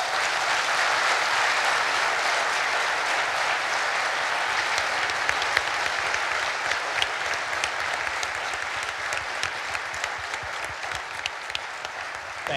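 An audience claps after a speech on Russia and national security, dense steady applause that fills the room throughout, with scattered individual claps standing out near the end.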